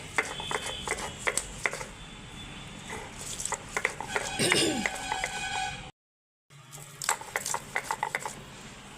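Onion and green chilli are ground into a paste for a mustard-poppy hilsa fish dish, with steady scraping, grinding and clinking strokes, busy and close, cut by a brief silent gap.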